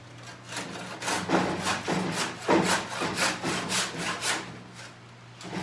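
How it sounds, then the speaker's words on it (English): A handsaw cuts through wood while a garden trellis is built, making a rhythmic series of about a dozen close, rasping strokes, roughly two per second, with no talk. "so I'm going to use a handsaw and get rid of that apart"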